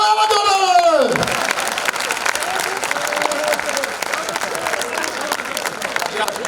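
Loud, dense audience applause fills a poetry and mimicry stage show, steady clapping from a large crowd mixed with some cheering, starting over a falling tone and continuing strongly throughout.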